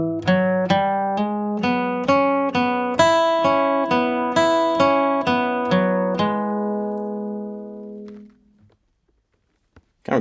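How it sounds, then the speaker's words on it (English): Acoustic guitar playing a basic bluegrass flatpicking lick, a steady run of about a dozen crisp picked notes in even rhythm, close and clear, ending with a ringing note that fades to silence. "Kind of a basic bluegrass flat picking lick going on here, measure 7 and 8"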